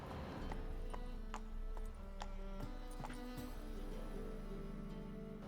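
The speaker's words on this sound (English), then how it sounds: "Oh, that was just my horse." A horse's hooves clip-clop in The Witcher 3: Wild Hunt, a string of light, uneven knocks close by over a low ambient bed, with no talk.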